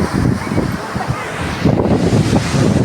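Ocean surf at Kovalam beach on the Arabian Sea coast rushes and washes in steadily, loud and close, with wind buffeting the microphone.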